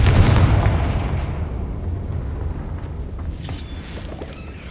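A Confringo fire spell explodes in the Hogwarts Legacy video game: one heavy blast at the start that rolls off into a long, fading rumble, followed by faint crackling debris.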